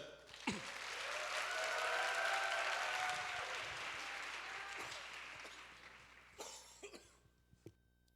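A church youth congregation at a mission report service claps to welcome a speaker, a moderate swell of applause that fades, followed by scattered coughs and small noises in a quieter room.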